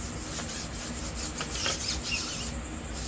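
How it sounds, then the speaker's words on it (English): Steady scrubbing and rubbing on a dirty, sudsy rubber tire sidewall with cleaner, a continuous close rasping brush texture with small squeaky bursts and no talking. "So keep agitating the rubber, different angles, really scrub."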